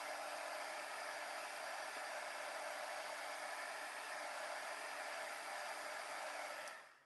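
A heat gun blows steadily while heat embossing a stamped design on heat-resistant vellum, a continuous faint airy whoosh that lasts about seven seconds and then stops, with no talking.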